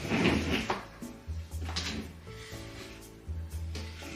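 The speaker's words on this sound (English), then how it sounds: "And then I pull out these drawers." Wooden dresser drawers slide out and thump in a bedroom during cleaning, several scraping pulls and knocks spread across a few seconds, close by and fairly quiet with no speech.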